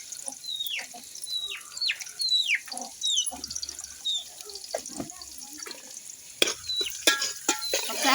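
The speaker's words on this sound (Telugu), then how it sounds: "సరేనండి, అయితే ఫ్రై అవుతున్నాయి కదా, దీంట్లోనే పసుపు కూడా వేసుకుందాం." Onions fry with turmeric in a pan while a spoon stirs them: intermittent scraping strokes and soft sizzling, with quiet gaps and a few sharper clinks near the end.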